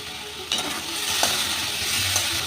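Goat liver frying in a pan with tomato added, a steady close sizzle with stirring scrapes and a sharper hiss as the tomato hits the hot oil.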